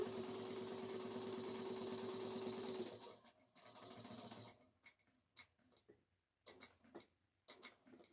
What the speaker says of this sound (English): We're going to stitch all the way down and try to get directly in this hole.